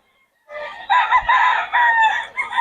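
Roosters and chickens at a poultry market in Bocaue give loud, close crowing calls mixed with clucking, one crow following another with no talk.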